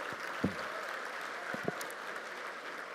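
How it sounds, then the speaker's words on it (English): A round of applause at the National Forum for Black Public Administrators closing session, heard as a soft, steady patter of clapping from a distant hall, with a couple of brief low knocks near the start. "Please, a round of applause."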